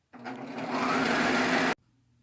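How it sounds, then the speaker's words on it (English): A sewing machine runs steadily down a knit skirt seam in one continuous, fairly loud burst of about a second and a half, then stops abruptly into near silence. "I'm just going to sew straight down this seam that we cut."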